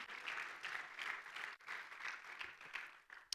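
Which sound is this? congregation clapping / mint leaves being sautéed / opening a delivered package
congregation clapping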